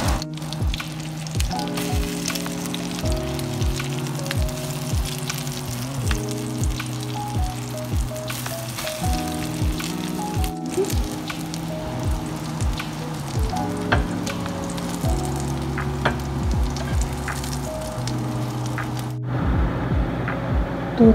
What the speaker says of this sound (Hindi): देखिए मैंने सब कबाब फ्राई होने के लिए रख दिए हैं